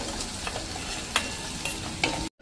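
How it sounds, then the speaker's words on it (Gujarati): Chopped onion and garlic fry in a pan over a medium flame, giving a steady soft sizzle with occasional stirring scrapes before a sudden cut. "આને 1-2 મિનિટ આ રીતે મીડિયમ ફ્લેમ ઉપર એની કચાશ દૂર થાય ને ત્યાં સુધી કૂક કરશું કાંદા લસણની."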